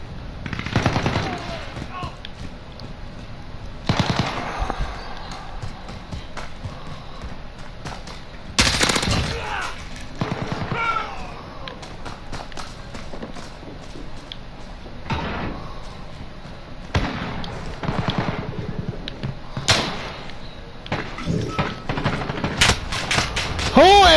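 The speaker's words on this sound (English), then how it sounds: "Who in the fuck is shooting me?" Bursts of automatic gunfire and scattered shots from a Call of Duty Warzone team deathmatch ring out in clusters over a busy game soundscape, with a voice talking intermittently.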